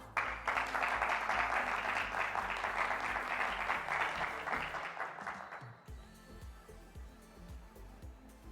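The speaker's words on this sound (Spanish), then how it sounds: "vamos a recibir con un fuerte aplauso virtual" Virtual applause at an online event: a dense burst of clapping holds steadily for about five seconds, then fades and cuts off, leaving a quieter low background with faint knocks.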